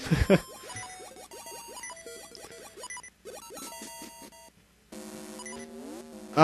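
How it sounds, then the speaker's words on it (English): Rapid electronic low-health warning beeps and chirps from The Legend of Zelda: Oracle of Ages, in bursts with short gaps, synthetic game-like tones repeating, fairly quiet and without speech. "get used to the beeping sound again"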